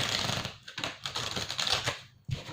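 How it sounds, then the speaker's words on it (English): Crisp new playing cards riffle and snap together in quick bursts, close and fairly loud, with a short pause before the last flurry. "I love how they shuffle when they're new, the sound of them."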